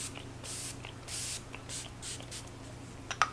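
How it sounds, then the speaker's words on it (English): Makeup setting spray mists onto a face in several short, soft hissing bursts, close up, followed by a few light clicks. "I think I have enough setting spray on."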